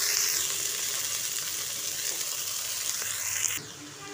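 Garlic fries in oil in a pan before pumpkin leaves go in, making a continuous close hiss and crackle that drops slightly in level near the end.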